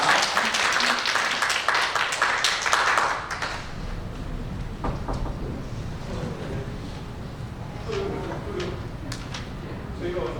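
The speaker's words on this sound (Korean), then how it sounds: "다시 한번 따뜻한 마음으로 큰 박수로 환영하도록 하겠습니다" A church congregation at a Sunday worship service claps warmly to welcome a member coming up to speak, a full burst of applause for about three seconds that fades into quieter room noise and a few scattered sounds.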